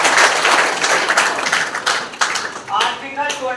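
A classroom of students in India claps together, a brisk burst of mixed applause, close and fairly loud, thinning out toward the end as a voice speaks over it.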